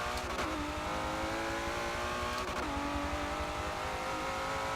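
Race car in Forza Motorsport 7 revving hard through gear changes, the engine tone climbing in two rising sweeps with a shift between them, loud and continuous, with no talk.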